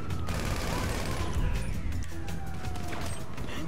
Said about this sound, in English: Let's go micro SMG.